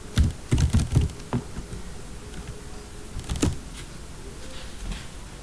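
Keys clatter on a computer keyboard while entering formatting text for a bar chart in R, a few quick bursts of close clicks followed by quieter scattered taps.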